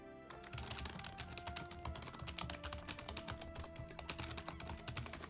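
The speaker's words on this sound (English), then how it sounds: "ASMR of me typing on my keyboard" Someone types steadily on a computer keyboard, rapid close clicks and key thuds in an uneven rhythm, alone without talk.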